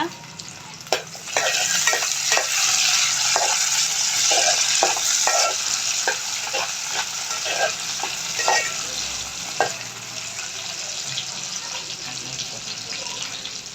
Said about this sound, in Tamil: ரொம்ப வதக்க வேணாம், மீடியமான அளவு வதக்கிக்கோங்க.